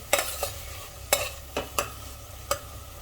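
Masala for Sindhi onion fish is stirred and roasted in a pan: five sharp spoon scrapes at uneven intervals ring out over a low, continuous sizzle, close and clear with no talking.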